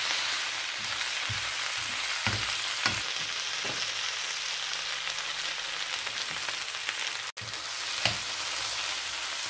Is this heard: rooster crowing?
no